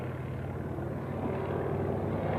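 Propeller aircraft performing tight-turn aerobatic maneuvers at an airshow in Jacksonville, a steady, loud engine drone sustained throughout with no pause.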